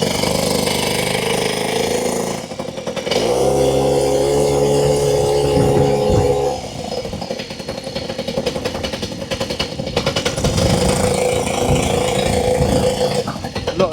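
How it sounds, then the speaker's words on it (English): A Puch Maxi two-stroke moped engine runs steadily and close by with a buzzing, droning tone that rises and falls through the ride, loud and continuous. "A lot of noise. Gotta love a two-stroke."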